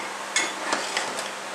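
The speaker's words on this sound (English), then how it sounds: "I just tap it with the hammer, with the back of my hammer" Four light metallic taps from the back of a hammer on a part of a 42LE (A606) automatic transmission during teardown, spaced evenly and close by, each a short sharp knock over a steady background hiss.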